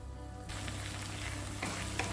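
Tomatoes sizzle in a pan while being sautéed for a green gram sambar, a steady frying hiss that starts after a quiet half second, with occasional stirring scrapes near the end.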